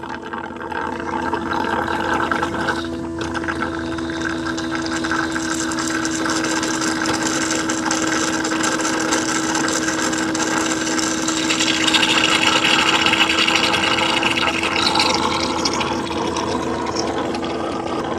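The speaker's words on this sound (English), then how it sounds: "here's the final emptying of the dirty water tank." A Eufy robot vacuum mop base station empties the dirty water tank with a loud, continuous pumping and motor hum, a steady tonal drone with water gurgle that swells slightly toward the end.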